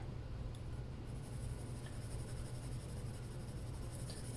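A lavender colored pencil drawn lightly across paper gives a faint, steady scratchy whisper, close up and quiet, with no voices.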